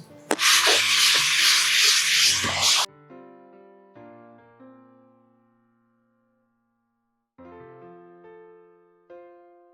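Sanding on a repaired crack in a wall, a loud, dense abrasive rasp lasting about three seconds before stopping abruptly, followed by soft sustained musical tones.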